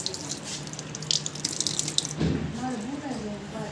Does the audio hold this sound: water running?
yes